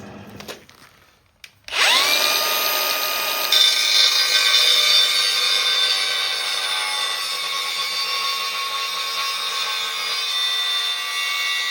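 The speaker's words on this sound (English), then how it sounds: "I'll have to just spend a bit of time with the grinder and tidy that bit up" Angle grinder working on a steel bullbar, starting after a few quiet knocks and then a loud sustained high whine with grinding rasp, close and steady for the rest of the clip.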